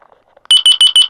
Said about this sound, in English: I don't know, it's beeping.